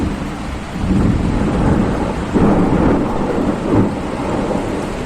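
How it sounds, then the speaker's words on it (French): Heavy rain pours down with deep rolling thunder, a dense roar with several loud rumbles swelling and fading, used as a storm effect in a narrated Australian folk tale. "la pluie a commencé à tomber à verse, éteignant le feu"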